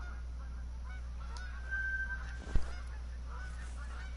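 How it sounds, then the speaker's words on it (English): Geese in the Call of the Wild hunting game honk a few times from a distance on the Revontuli coast, with one drawn-out call over quiet outdoor ambience and a brief thud near the end. "Hello, geese."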